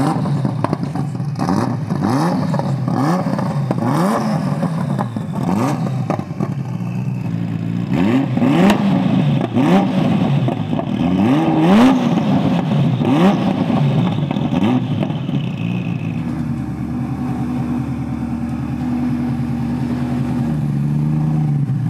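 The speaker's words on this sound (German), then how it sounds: "So, wenn wir Gas geben?" Ferrari F40 engine revving hard and accelerating, loud and close with rising and falling pitch sweeps through repeated gear pulls, then settling to a steadier drone near the end.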